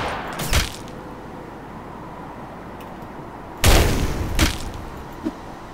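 Gunshots from an enemy's gun in a video game, three sharp cracks with booming tails, one near the start and two close together later, over a steady low background hum.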